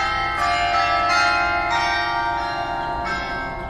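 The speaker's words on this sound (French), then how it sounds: "Mon propre carillon a failli me foutre les jetons" A bell clock chimes in an Arx Fatalis game, ringing clear, sustained metallic tones with several distinct strikes that each swell and then slowly fade, close and alone.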